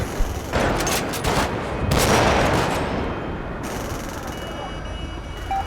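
Gunfire in a British police mod of GTA 5, bursts of rapid shots in two loud clusters over a dense, noisy roar that lingers and fades, with faint voices mixed in.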